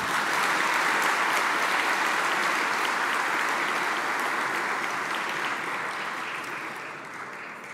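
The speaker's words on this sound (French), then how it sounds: "Des applaudissements, s'il vous plaît." An audience at the 2024 Assyro-Chaldean annual grand dinner in France applauds: a full, even burst of many hands clapping that holds steady, then slowly fades toward the end.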